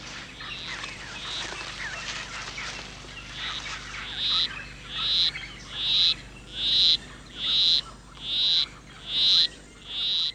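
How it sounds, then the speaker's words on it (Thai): A male poison dart frog calls to a female in a primeval rainforest, giving a regular series of short trilling chirps that grow louder and more distinct, about one per second, over a soft forest background. "กบพอยซันแอโร่เพศผู้กำลังเกี้ยวพากบเพศเมียเสียงเพลงอันราบเรียบของมันคือความพยายามที่จะหลอกล่อให้เจ้าเพศเมียติดตามมันเข้าไปใต้ใบไม้เพื่อผสมพันธุ"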